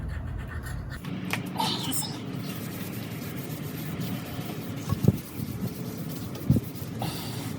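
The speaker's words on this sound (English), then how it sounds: "With the metal scraper, the blue's coming off a little easier." A metal gasket scraper scrapes blue coating off an aluminum part for a hot rod build, giving continuous gritty rasping with a few sharper scrapes near the end, close and steady.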